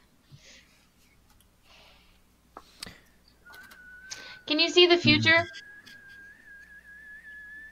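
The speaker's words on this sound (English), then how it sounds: "And you hear the kettle's already starting to whistle." A tea kettle begins to whistle with a thin, steady tone that rises slightly and holds for several seconds, partly under a person speaking nearby.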